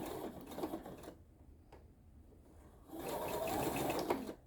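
A sewing machine runs through a crazy quilt block seam in two bursts, a steady rapid stitching hum at the start and a louder, longer run near the end, separated by a quiet pause with a faint click.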